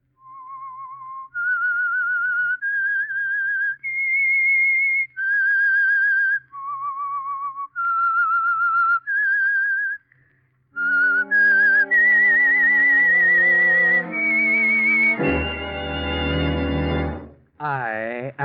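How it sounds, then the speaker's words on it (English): A whistled theme tune opening a radio mystery program, a lone melody of clear sustained notes that swells into an orchestral finish. "That whistle is your signal for the Signal Oil Program"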